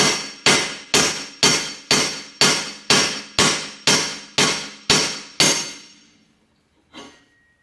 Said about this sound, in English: You just have to keep hitting it until it releases. Just keep whacking it.